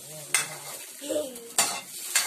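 A spoon stirring sweet and spicy dilis frying in a pan, with sharp scraping clacks at irregular intervals over a steady sizzle, close and alone.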